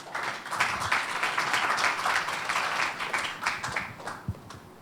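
Audience applause welcomes the chairman of the Seoul international law institute to the stage at a symposium on responsible military AI, a steady, even round of clapping from a seated crowd, moderately distant, lasting throughout.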